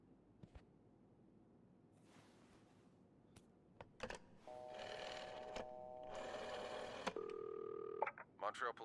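In a video game, a phone is dialed with a quick run of key presses followed by steady electronic tones, mixed with clicks and shuffling while a person speaks intermittently.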